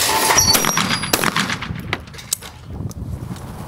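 Shotgun blasts at a clay pigeon shooting range, sharp loud reports following one another in quick irregular succession, some overlapping, with ringing echoes between them.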